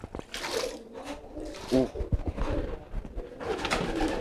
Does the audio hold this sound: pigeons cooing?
yes